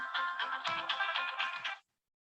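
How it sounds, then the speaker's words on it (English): A mobile phone ringtone plays as a bright repeating melodic pattern of rapid tones, fairly close and clear, running alone for almost two seconds before cutting off abruptly into silence. "I had not counted on my phone ringing in the middle of this."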